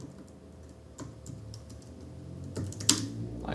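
Fingers typing on a computer keyboard, with soft, scattered keystrokes up close at an irregular pace and a louder clack near the end in a quiet room.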